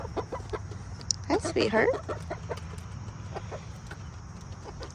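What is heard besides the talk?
backyard chickens clucking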